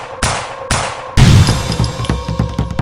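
A 9mm pistol fired in rapid succession: two sharp cracks, then a heavier burst of reports with a booming low thud, followed by clattering echoes and ringing, loud and close.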